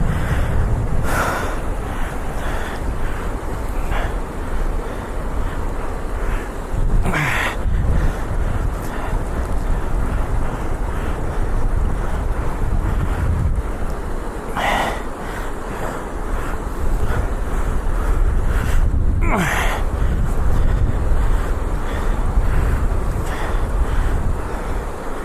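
Rising water rushes steadily around a Hero Xpulse Pro off-road motorcycle stuck in a stream. A continuous loud roar of flow is mixed with heavy wind buffeting and occasional brief knocks.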